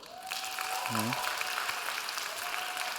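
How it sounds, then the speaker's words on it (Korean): Congregation applause during a Sunday youth worship service at a church, many hands clapping steadily and fairly softly, with a brief voice and a sustained tone heard over it. "박수 한번"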